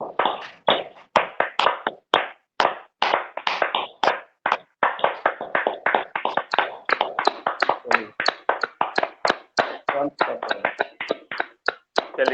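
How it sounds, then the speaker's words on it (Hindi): A group at a daily yoga session claps hands vigorously as an exercise, sharp rhythmic claps in quick bursts with brief pauses, close and loud, with a leader's voice now and then between them. "तो हाथ के ऊपर हाथ रख के हम जम के ताली बजाएंगे"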